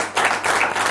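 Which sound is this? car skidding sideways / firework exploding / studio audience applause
studio audience applause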